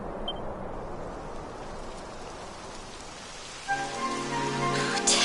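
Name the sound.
rain falling in Dragon Quest XI S video game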